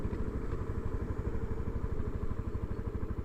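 A Suzuki DRZ motorcycle engine idles after a ride in a roadside lay-by, a steady close, rapid thumping putter with light mechanical clatter running throughout.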